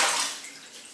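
A shaving razor rinsed in a basin of water gives a brief splashing swish that fades quickly into a soft trickle, close and alone.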